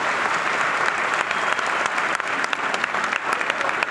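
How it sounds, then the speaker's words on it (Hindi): Sustained audience applause at a seminar in Jaipur, a dense, steady wash of many hands clapping throughout, loud and close with no talk over it. "आप जितने भी लोग पहले जो लोग खड़े हैं उनके लिए तालियां बजा दीजिए"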